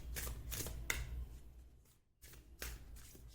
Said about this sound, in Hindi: मैं कुछ और कार्ड्स भी लेना चाहूंगी